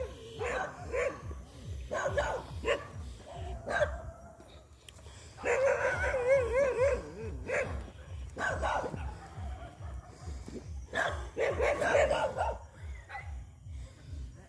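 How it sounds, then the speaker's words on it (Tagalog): A dog barks and yips repeatedly in an evening street setting, loud and close, with whimpers and howl-like notes between bursts and people talking over it. "May aso."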